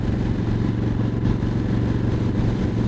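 Engine of a Honda Shadow 750 Aero motorcycle fitted with a spike air intake, a loud continuous low rumble with steady throttle pulsing, close and alone.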